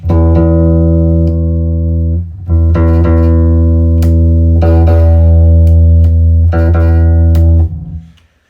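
Deep electric bass notes from a Telecaster bass with a split humbucker pickup and the tone control fully up, played loud and close, sustained with a few pauses and plucked attacks, fading out at the end.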